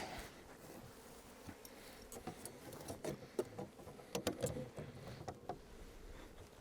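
Honeybees hum in an opened nucleus colony box with a feeder on top, a faint steady buzz broken by a few soft clicks and knocks of handling.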